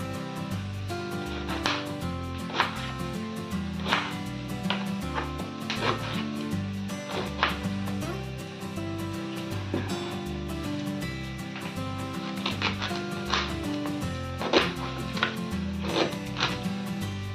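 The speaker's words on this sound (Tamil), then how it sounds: "இதை நைஸாக கட் பண்ணி எடுத்துக்கலாம்" A knife chops spiny gourd finely on a board, with sharp repeated cuts that come in quick bursts, clear and close, all the way through.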